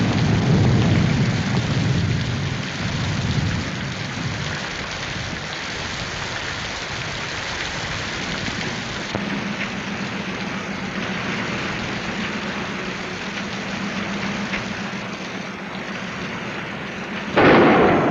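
Heavy storm rain pours steadily and loudly, with thunder rumbling through the opening seconds and a low steady hum joining midway, ending in a sudden louder burst.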